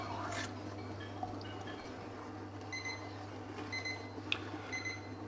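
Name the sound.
cooking thermometer alarm ringing at 90 degrees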